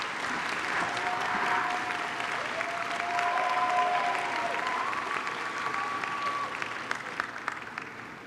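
A convocation audience at a university orientation gives the organizers, leaders and volunteers a sustained round of applause, a dense wash of clapping that holds steady and thins slightly toward the end, with a few voices faintly mixed in.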